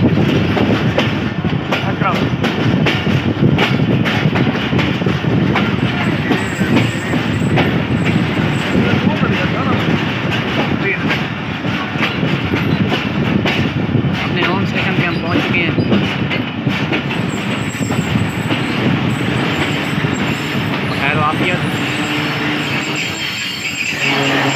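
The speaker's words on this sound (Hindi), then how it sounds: "Break have been applied, finally we have arrived at our home station सनामा।" A passenger train brakes and rolls into Sanawan station, a steady close rumble of wheels and carriages with squealing and clickety-clack throughout, while voices speak over it.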